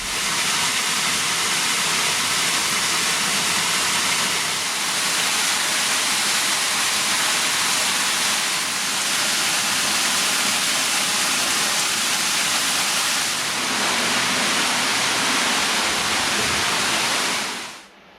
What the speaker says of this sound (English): This is the sound of the dry dock at night.